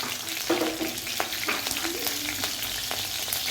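Curry leaves and chillies sizzle in hot oil, a dense continuous crackle and spatter with a few brief stirring clatters and no talk.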